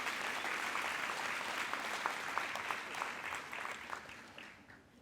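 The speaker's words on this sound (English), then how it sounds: "you deserve to give yourself a hand of applause" Graduation audience applauding steadily at a university ceremony, a dense wash of many hands clapping that fades slightly toward the end.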